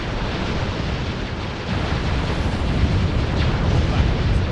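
Star Destroyer gun batteries firing in the space strategy game Sins of a Solar Empire, heard as a continuous loud rumbling barrage of booming blasts that swells slightly midway and holds steady.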